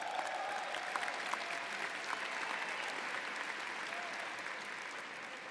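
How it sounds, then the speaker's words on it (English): At the Michigan Ross Class of 2018 graduation ceremony, a large crowd cheers and applauds global MBA students, a steady and fairly distant wash of clapping and voices that holds evenly throughout. "Can I get a cheer from them?"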